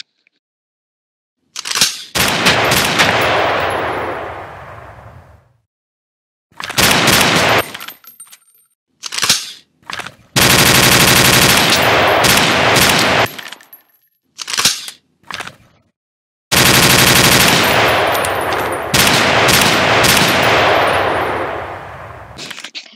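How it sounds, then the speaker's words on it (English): Several guns firing in a Roblox roleplay game, with sustained bursts of rapid automatic fire between short silent gaps, plus a few brief single shots, loud and close with no talking. "adding some new nice guns, which are like this"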